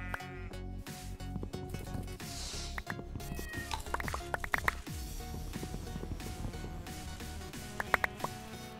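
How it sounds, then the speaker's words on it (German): A cat in Minecraft gives several short meows scattered through the clip, mixed in with game music and the soft clatter of blocks being broken and placed. "Geh weg, du Katze"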